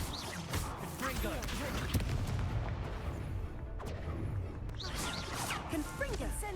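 The Confringo explosive spell is cast repeatedly in the wizarding game Hogwarts Legacy. Several sharp bursts and blasts go off over constant combat noise, with brief gaps between them.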